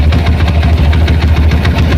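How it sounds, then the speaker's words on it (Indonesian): Honda CB motorcycle fitted with a 270 cc Tiger engine with a 70 mm stroke and a 70 mm piston runs at a steady idle nearby, loud and continuous with a knocking, throbbing pulse. "CB yang udah kita ganti mesin Tiger dengan kapasitas silinder 270 cc dengan struk 70"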